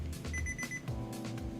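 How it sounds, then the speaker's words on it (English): A timer alarm beeps in a quick, steady repeating pattern, loud and close, with nothing else over it for under two seconds. "Beep, beep, beep."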